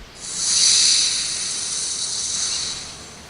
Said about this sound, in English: Henry still stayed in the tunnel and blew steam at him